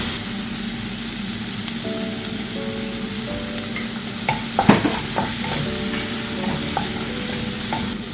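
Salted tomatoes sauté in a pan for a no-coconut lunch side dish: a loud, continuous close-up sizzle with a few scraping stirs and clinks near the middle, no voices.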